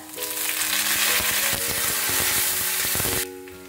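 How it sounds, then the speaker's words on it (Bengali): Curry leaves hit hot oil already spiced with mustard seeds and chopped garlic, bursting into a loud, steady hiss and crackle with spattering pops and a little stirring, then dying down abruptly near the end. "এবার দিয়ে দিচ্ছি কিছুটা কারি পাতা।"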